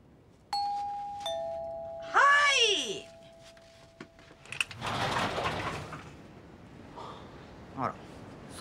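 An apartment intercom doorbell rings in a two-tone ding-dong chime, loud and clear, followed by rustling movement and a brief gasp-like breath.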